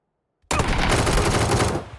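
A burst of gunfire in the video game Fallout 4, a sudden loud blast at about half a second followed by a sustained roar of rapid shots that tapers off near the end.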